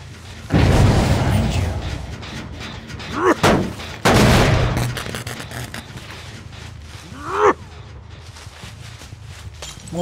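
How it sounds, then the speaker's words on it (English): A mortar strike explodes in the video game Dead by Daylight: a heavy, rumbling boom with a long roaring tail, then a second sharp blast, with voices chattering in between. "Mortar strike out."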